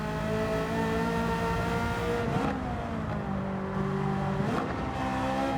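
A Ferrari F40 '92 engine revs hard in a racing game, a loud continuous high-pitched howl that climbs and dips as gears shift, with brief drops in pitch between pulls.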